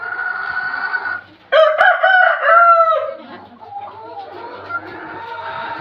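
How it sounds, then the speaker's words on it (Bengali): A Laiza rooster on a poultry farm gives one loud, close crow with a rising then drawn-out call, followed by softer clucking and farmyard noise. "এটা লাইজা মোরগ"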